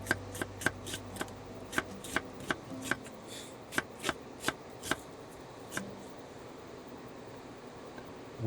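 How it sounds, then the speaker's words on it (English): A knife slicing food in half against a cutting board outdoors on a beach, a run of about a dozen crisp, evenly paced chops that slow and fade toward the end. "then I'm slicing it in half again, both sides"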